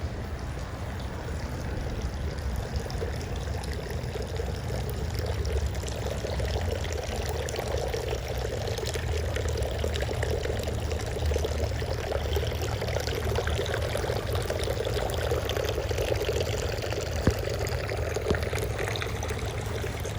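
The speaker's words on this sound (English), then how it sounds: "One of the beautiful things about this spring is actually where the water comes out." Mineral spring water pours steadily from a decorative ceramic spout at Congress Spring in Saratoga Springs, a continuous even splash and trickle heard up close for the whole stretch, with no talking.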